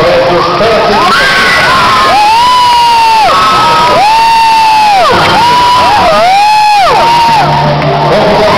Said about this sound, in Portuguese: Aplausos aos alunos do Colégio SESI.